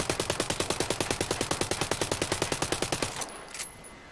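An Uzi 9mm fires on full auto in Ghost Recon Breakpoint, a loud, rapid, evenly spaced stream of about thirty shots that stops abruptly, followed by faint mechanical clicks.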